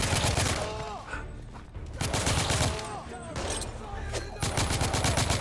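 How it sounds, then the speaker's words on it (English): Enemy gunfire in The Order 1886 crackles in dense, rapid bursts with short lulls between volleys, loud and close, while other game sounds run underneath. "He's shooting us"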